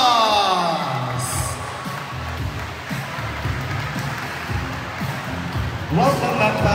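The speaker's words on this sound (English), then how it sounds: "Let's give her a round of applause." A crowd at a school fashion show opening cheers and whoops for the first judge, a steady loud wash of noise throughout with a swell near the end, shouts rising above it.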